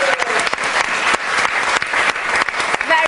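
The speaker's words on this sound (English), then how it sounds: "Little round of applause for Marcus and Craig." Studio audience on a television chat show clapping for two guests in the crowd, a close, lively burst of applause with uneven surges and some voices mixed in.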